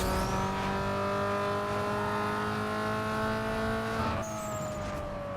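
A car engine in Need For Speed: Underground 2 drones continuously at high revs, its steady harmonic whine shifting pitch briefly near the end as a gear changes, with the game's car audio sounding slightly off.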